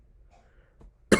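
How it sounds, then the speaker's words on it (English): A single sharp cough from someone with a sore throat, loud and close, bursting out at the end after a near-silent stretch with a faint throat sound. "Sorry if I'm coughing a lot."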